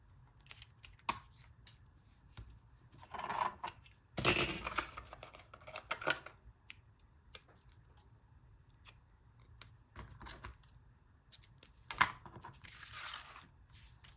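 Scissors snip through paper for a collage in a run of crisp, close cuts and rustles, with louder crunching bursts and crinkles between quieter pauses.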